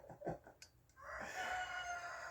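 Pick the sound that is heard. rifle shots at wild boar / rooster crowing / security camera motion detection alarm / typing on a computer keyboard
rooster crowing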